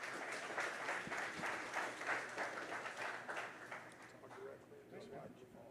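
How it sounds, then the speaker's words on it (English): Audience applause for Coach Raymond at a talk show event at Chicken N Pickle, a steady mass of clapping that holds for several seconds and fades slightly toward the end, with voices mixed in underneath. "a round of applause for Coach Raymond."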